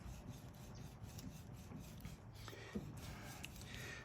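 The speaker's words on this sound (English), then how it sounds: "So I'm just kind of like working my chisel, using my thumb to push it against this." A luthier works a chisel by hand into wood while cutting a covered vee joint, giving faint, close, continuous scraping and rasping strokes with no talk.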